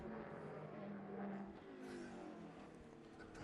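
Race cars, among them a Mercedes CLK GTR and a Ford GT, lap a racing circuit with a faint, distant engine roar that rises and falls as the cars accelerate and pass.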